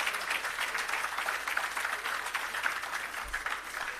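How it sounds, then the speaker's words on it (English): An outdoor crowd at an agro park launch and irrigation system commissioning claps continuously, a soft, even wash of applause heard from some distance and lasting throughout. "That deserves a big round of applause."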